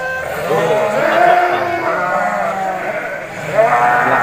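A Solo goat at a Kuningan livestock market selling sacrificial animals gives close, loud quavering bleats, with other animals and faint crowd noise around it.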